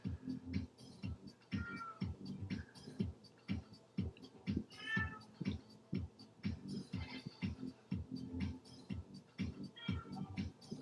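A cat meows repeatedly, fairly close, with clear separate calls over a rapid ticking, tapping background, no talk.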